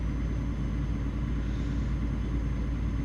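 A truck engine pulling in a lower gear after a downshift, a steady loud low rumble with road noise heard from inside the cab, unbroken and with no voices.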